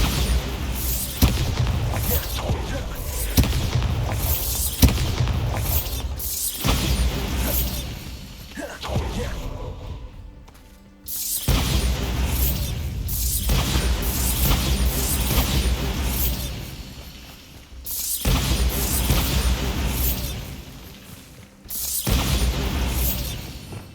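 Bombarda blasting spells in Hogwarts Legacy on Xbox Series X produce repeated loud booming bursts with whooshes and shattering debris, separated by brief lulls, under game music and effects.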